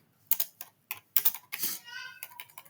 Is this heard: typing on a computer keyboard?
yes